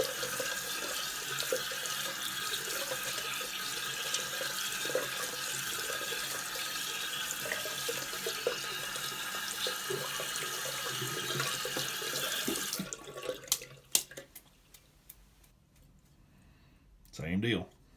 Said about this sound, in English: I'm going to keep rinsing.